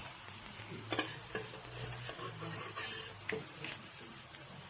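Vegetable cutlets fry in a pan with a steady oily sizzle, broken by a few louder sputtering bursts and light clinks of a utensil against the pan, heard up close with no talking.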